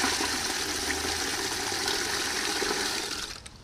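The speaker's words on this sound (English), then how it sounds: "I fill up a 5-gallon bucket." Rainwater drawn from a collection barrel pours steadily into a 5-gallon bucket, a constant broadband gush that stays loud and even before tapering off at the end, with no talking.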